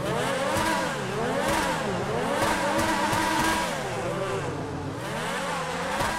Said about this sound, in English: I'm just going to let you guys listen to the engine right now.